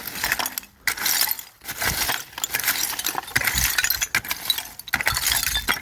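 Old glass liquor bottles, many from around the 1960s, clink and grate together in a steady stream of scraping and rattling while a mound of a bottle dump is dug, close and fairly loud.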